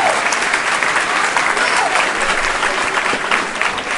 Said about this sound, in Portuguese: dá uma salva de palmas para Deus, amém?